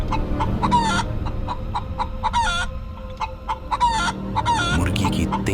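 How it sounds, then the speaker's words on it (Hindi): A hen squawks and clucks loudly at night in a backyard coop as someone grabs at her, with repeated sharp, agitated bursts of calls close by and loud throughout. "मुर्गी की तेज आवाज पूरे घर में गूंज उठी।"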